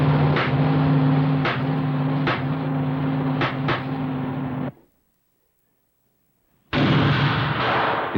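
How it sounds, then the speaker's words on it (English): A hydrogen-fueled car engine suffers flashback to the carburetor from a timing problem, its loud rough running broken by several sharp pops, then a two-second drop to silence before the engine noise returns. "It's a flashback to the carburetor, a timing problem."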